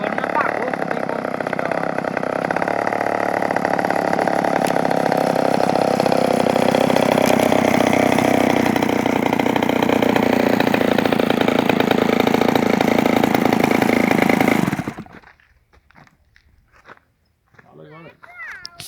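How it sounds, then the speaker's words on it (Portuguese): A 52cc brush cutter engine mounted on a styrofoam model airplane runs with a loud, buzzing two-stroke drone for about fifteen seconds, then stops abruptly, followed by brief talk. "Um avião com motor de roçadeira, 52 cilindrada."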